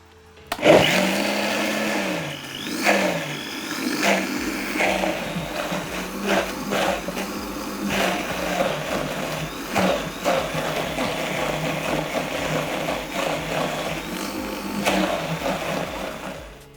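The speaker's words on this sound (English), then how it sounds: "So let's blend it all together." Chicken liver pâté being puréed in an electric blender, a loud, close whirring motor that pulses and shifts in pitch as the mixture churns, steady for the whole stretch with no talking.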